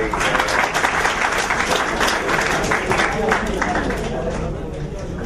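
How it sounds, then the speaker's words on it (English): A student audience claps steadily and loudly, a dense continuous wash of hands with some crowd murmur underneath, easing slightly at the very end. "all this clapping goes to you, not to me"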